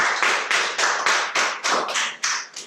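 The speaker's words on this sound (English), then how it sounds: "we'll give them a little applause" A small audience claps for guest speakers at a green marketing training session for managers, giving about ten evenly spaced, close, loud claps in a steady rhythm with no talking.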